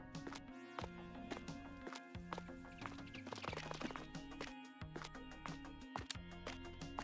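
Animated horses on a decorative horse farm in Farming Simulator 22 clip-clop with steady, repeated hoof taps over a soft ambient hum, fairly quiet and with no speech.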